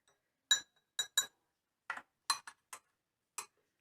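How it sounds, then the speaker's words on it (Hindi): A spoon taps and clinks against a cup or glass while one spoonful of sugar goes into separately made tea, several crisp, close clinks spaced irregularly in quiet surroundings. "1 चम्मच मैं चीनी डालने लगी हूँ।"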